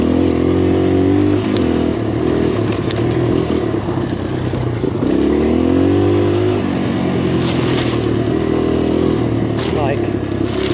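A 2023 Kawasaki KLX140RF trail bike is ridden hard on trails, its small four-stroke engine droning loud and close throughout, with rising and falling revs as the rider shifts and accelerates.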